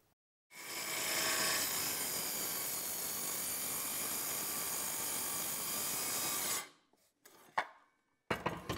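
A circular saw trims an inch off a wooden workpiece, whining loud and steady for about six seconds before spinning down, followed by a few clattering knocks.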